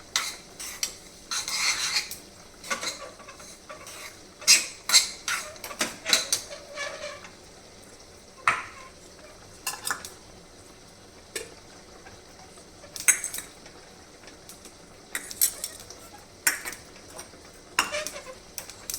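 Sesame and poppy seeds fry in a pan for a jackfruit sweet, stirred with a spoon that scrapes and taps the pan in irregular bursts throughout, with only a faint sizzle underneath.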